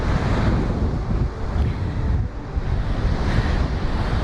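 Strong wind blowing over the Fuerteventura sand dunes in Spain, a continuous loud roaring rush buffeting the microphone with gusty low rumble throughout.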